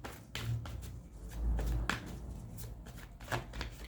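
Tarot cards being shuffled by hand in a series of soft, riffling slaps and taps, close and moderately quiet, with no talking.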